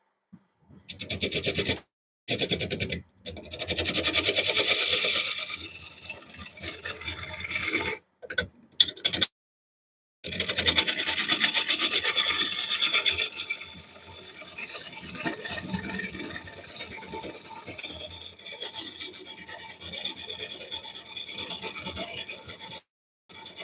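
A gouge rubs and rasps against a soft cypress wood bowl spinning on a lathe, a continuous gritty hiss that cuts in and out in short gaps before running steadily to the end.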